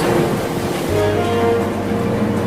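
Comedy sound effect of village floodwater rising, a loud continuous rushing roar of water and wind-like surf filling the whole stretch without pause, no voices.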